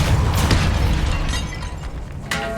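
A Depulso spell firing in Hogwarts Legacy, a loud burst that booms and rumbles, then fades before a second crisp hit near the end, set in a tomb.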